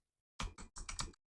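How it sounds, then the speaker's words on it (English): Keyboard typing in the sci-fi puzzle game Ara and the Empty Universe: five short clicky bursts in quick succession, fairly close and clean, followed by the start of another sound at the end. "Keyboard."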